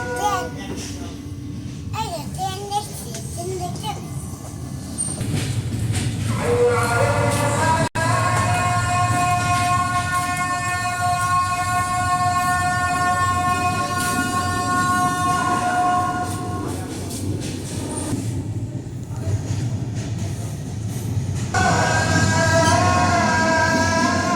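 A passenger train rolls along on a long family journey, its steady rumble running throughout, close and fairly loud, with brief horn-like tones and children's voices chattering over it.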